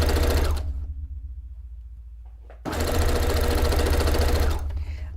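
A sewing machine stitches down folded fabric edges on a cone-shaped cape, in two rapid mechanical bursts separated by a pause of about two seconds.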